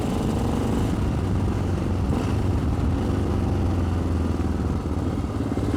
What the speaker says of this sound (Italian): questa moto non va portata come la sto portando io adesso